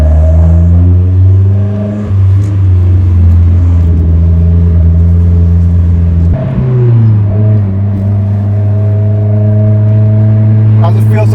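A Mazda Miata with individual throttle bodies and a flame tune pulls hard at high RPM, its loud, rasping engine note climbing steadily with a distinct drop at a gear shift before rising again.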